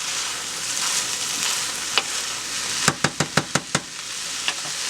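A warmed vegetable mixture hisses steadily in a pan, and near the end a quick run of utensil taps and scrapes cuts through the sizzle as it gets stirred, close and alone without talk.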